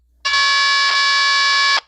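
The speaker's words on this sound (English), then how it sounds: "And that's what both tones sound like." A sound modem plays its low and high calibration tones at once as one loud, dense electronic tone that starts abruptly and holds for about a second and a half before cutting off.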